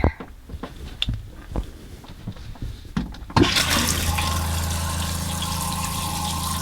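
Flush of an RV toilet during winterizing, pink antifreeze rushing into the bowl: a steady, close gush of liquid starts abruptly and runs continuously, preceded by quieter clicks and handling noises.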